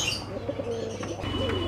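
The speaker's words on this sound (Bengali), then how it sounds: "দেখে নাও শার্টিং পায়রাগুলো" Shorting pigeons coo close by in a short, throaty, warbling burst, with faint chirps in the background.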